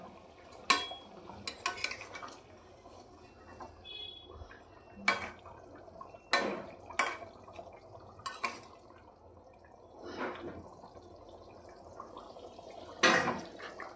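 Soya koftas dropped into a boiling curry gravy: a run of sharp, separate splashes and knocks spread across the stretch, with soft liquid bubbling and stirring between them and no voices.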